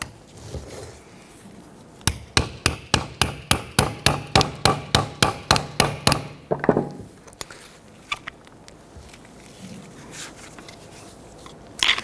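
A hammer taps a heavy-duty 90-degree pick behind a tab on the hub of a 1992-1996 Toyota Camry, giving about fifteen sharp, evenly spaced metallic strikes close up, followed by quieter scraping and a few scattered knocks.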